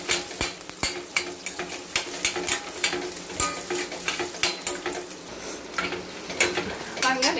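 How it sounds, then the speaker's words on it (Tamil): Small shallots frying in oil for a fish curry, crackling sizzle punctuated by frequent rhythmic spatula scrapes and clinks against the pan, close and busy throughout. "இது சின்ன வெங்காயம் நல்லா அந்த பச்சை வாசனை போகிற வரைக்கும் நல்லா ஃப்ரை பண்ணி விடுங்க"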